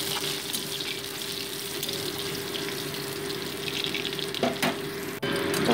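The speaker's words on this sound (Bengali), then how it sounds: "এবার ওই তেলের ওপরে কেটে রাখা বেগুনের টুকরোগুলো আমি অ্যাড করে দিচ্ছি, দিয়ে মোটামুটি এটাকে 2 মিনিট ভেজে নিচ্ছি" Eggplant pieces fry in hot oil with a steady, even sizzle and a faint hum underneath, a couple of brief clinks near the end.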